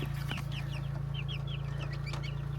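Small chickens kept in an outdoor box during pouring rain, clucking and peeping in short chirps over a steady low mechanical hum, several birds close by and calling repeatedly.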